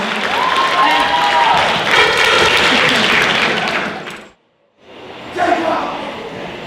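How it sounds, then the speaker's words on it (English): A warm round of applause and cheering welcomes comedian Jacob Deleon at a high school Asian Night show, loud crowd clapping mixed with whoops and shouts that drops to sudden silence, then resumes more briefly. "Let's give him a warm round of applause"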